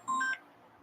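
A short electronic tone on a phone line as an outgoing call starts to ring, a brief layered beep lasting about a third of a second, then quiet.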